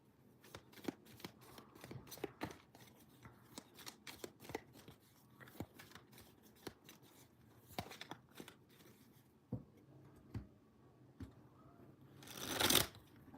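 Oracle cards shuffled by hand in quiet surroundings, a series of soft, crisp riffles and taps at uneven intervals, ending in a louder burst of card noise.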